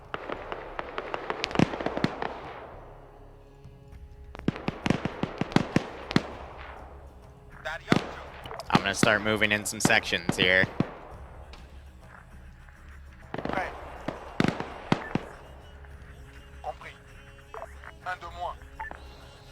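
Bursts of gunfire in a VIP rescue video game scenario, several sharp clusters of rapid shots spread across the clip, loud and close, with someone talking over and between them.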